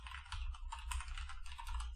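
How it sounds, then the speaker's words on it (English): Rapid typing on a computer keyboard, a dense run of light clicking keystrokes, close and steady with no talking. "I will even change to my Slovak keyboard here and write Škoda"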